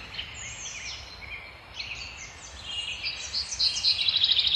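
Birds chirp and call in a rural countryside landscape, the bright tweets coming in scattered bursts and growing busier toward the end, over a faint low background hum.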